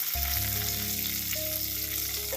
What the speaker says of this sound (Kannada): ಈಗ ಎಲ್ಲ ಸೇರಿಸ್ಕೊಂಡು ಸ್ವಲ್ಪ ಈ ಥರ ಫ್ರೈ ಆಗಬೇಕು.